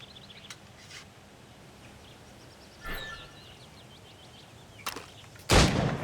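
Gunshots ring out at targets in the video game Assassin's Creed Rogue, a few sharp isolated cracks spaced seconds apart over a quiet outdoor ambience with faint bird calls, the last shot loudest.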